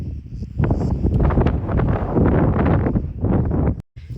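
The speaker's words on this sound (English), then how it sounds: "It's really windy out here." Strong wind on a ridge at the Minoan settlement of Syvritos, Crete, roaring and buffeting the microphone in heavy gusts, loud and close, briefly dropping out near the end.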